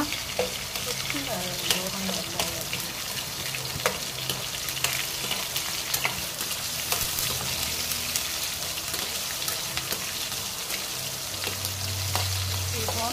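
Continuous crackling sizzle of spices frying in hot oil, steady and close, with scattered sharp pops throughout.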